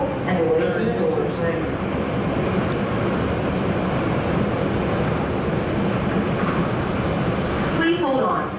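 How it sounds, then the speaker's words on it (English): An airport people mover train rolls between concourses with a steady, loud rumble and rattle throughout, occasional faint clicks and a brief tonal chime near the end. "This train is approaching Concourse B."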